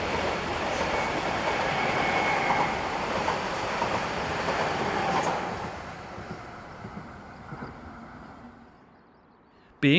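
A passenger train rolls past on an Austrian railway line, a steady broadband rumble of wheels and carriages that stays loud for several seconds, then fades into a quieter tail before an abrupt burst of noise at the very end.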